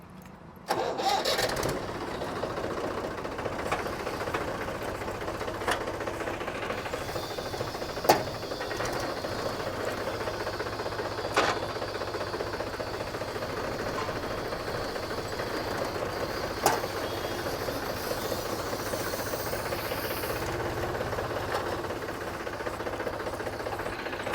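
A Mahindra tractor engine cranks and catches, then settles into a steady mid-pitched idle that keeps running, with a few faint clanks over the drone.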